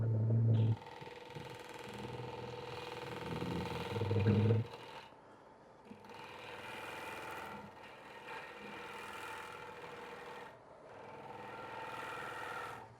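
A wood lathe spins a roughly turned, straight-sided bowl as a gouge cuts shavings, a steady mid-pitched whir with scraping bursts that rise and fall in repeated passes, loud thumps early on, fairly close.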